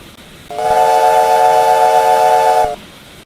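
A steam locomotive whistle from the Immersive Railroading mod in Minecraft sounds loud and close, one sustained multi-tone blast lasting about two seconds that then cuts off.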